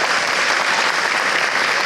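Loud, steady applause from an awards-ceremony audience at the Indomie Heroes Award, dense clapping filling the room without pause.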